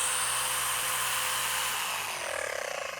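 A paint polisher runs on a car surface during swirl and scratch removal, a sustained high whine that then winds down and drops in pitch near the end.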